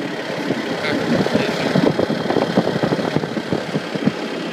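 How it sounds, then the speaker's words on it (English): Diesel engine of a Bobcat T300 tracked skid steer loader with an industrial tooth bucket, running steadily at close range with a rough, knocking mid-range rumble throughout. "a video inspection and demonstration of a Bobcat T300 track type skid steer"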